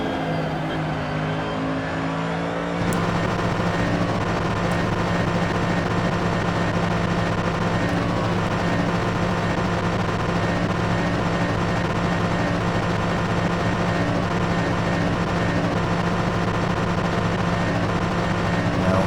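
A race car engine drones steadily through a lap in a modded racing video game, a continuous loud motor hum with shifting revs that starts up after a quiet opening few seconds.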